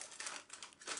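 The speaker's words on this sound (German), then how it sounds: "jetzt öffnen wir mal die dritte Tüte" A crinkly plastic surprise bag is pulled open, giving a few short bursts of close, quiet rustling and crackling.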